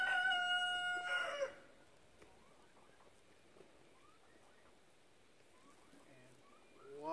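A rooster lets out a loud harmonic crow at the very start, then the scene falls to quiet outdoor ambience with faint distant bird calls and a soft stir near the end.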